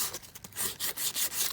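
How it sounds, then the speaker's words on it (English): Sandpaper rubs rhythmically across a wooden junk journal box, giving a close, soft, gritty scratching in quick repeated strokes with no talking. "let's just get the whole box sanded down so it looks a bit more"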